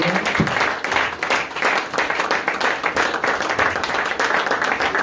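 A church congregation applauds in dense, continuous clapping at worship, loud and close, steady for the full stretch with a few voices mixed beneath.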